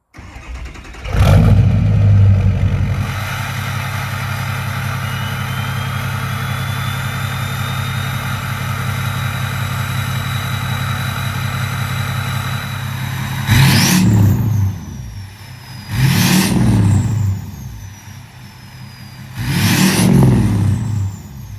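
A 6.0 diesel truck engine with a performance tune cranks and fires up, settling into a loud, steady idle close by, then gets three sharp revs in a row near the end.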